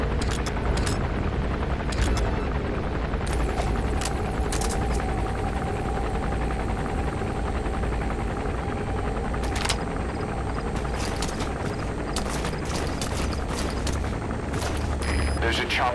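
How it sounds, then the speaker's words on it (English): Helicopter landing in the video game Metal Gear Solid V: The Phantom Pain, a steady rotor drone running throughout amid dense game noise, with bursts of gunfire and booms layered on top. "There's a chopper landing."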